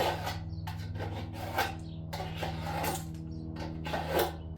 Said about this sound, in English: Now I'm going to take the file to that, clean it up real quick.